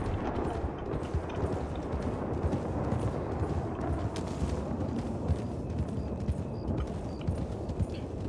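Horse hooves in the RedM video game, a steady, busy run of clip-clop beats heard up close, persisting evenly throughout with no talk over them.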